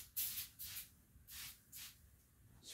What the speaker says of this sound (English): I'm going to spray the bill of that cover again.